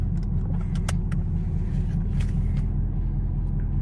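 Chevrolet Camaro ZL1 V8 heard from inside while driving, a loud, deep, steady engine drone with rumbling low end and a few faint rattles, no talk.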